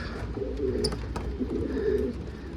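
Pigeons, a pair of escaped birds that have bonded, give soft, rounded coos in two close, steady bursts against a low background hum.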